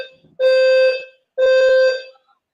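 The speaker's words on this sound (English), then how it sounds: "That would be my fire alarm." A home fire alarm sounds two loud, shrill electronic beeps, each nearly a second long with a short gap between, close by and harsh, with no talking during the tones.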